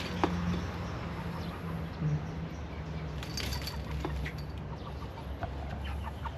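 Five backyard chickens in an enclosed pen, soft close clucks and short calls scattered over a steady low background hum.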